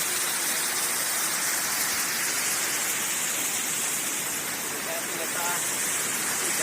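Khandadhar waterfall in the dense forest of Odisha roars as a constant, loud broadband rush of falling water, unbroken from start to finish with no voices standing out.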